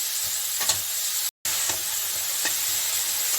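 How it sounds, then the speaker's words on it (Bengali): Broccoli frying lightly in a little hot oil over high heat for a paneer broccoli dish, a steady close sizzle with faint stirring scrapes, briefly interrupted by a short gap. "আমি তেলটা গরম হলে বকুলিটাকে একটু ভেজে নেব, বকুলিটাকে আমি হালকা একটু ভেজে নিচ্ছি"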